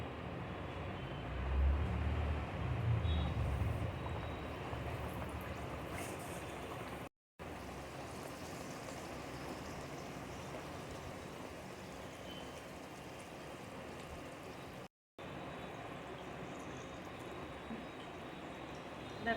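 Luchi dough frying in hot oil in a kadai, a steady dense sizzle and bubbling that continues throughout with only brief breaks, fairly soft and even, no talking.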